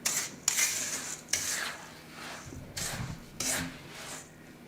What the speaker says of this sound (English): And mix that in until well combined.